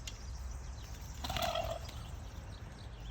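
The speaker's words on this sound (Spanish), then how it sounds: "Neo, coge el pavo, Neo" A turkey gobbles once in a short burst, a distinct rattling call rising above steady outdoor background noise, heard at a moderate distance with no talking.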